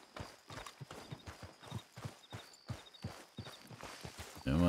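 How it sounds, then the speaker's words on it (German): Rhythmic clip-clop of horse hooves at a steady walking pace in the video game Red Dead Redemption 2, fairly close, with a brief louder burst at the very end. "Ich kriege mir unser Pferd noch ein bisschen rangepfiffen,"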